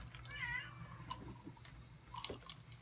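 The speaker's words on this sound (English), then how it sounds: "there are cats in the background" A cat meows in the background of a room, one drawn-out meow early on and another brief call near the end, faint and set against a low steady hum.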